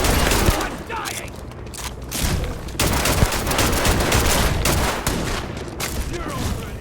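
Dense, rapid gunfire from the video game Starfield, played on very hard difficulty, crackles in near continuous volleys for the whole stretch, with shouted voices mixed into the chaos.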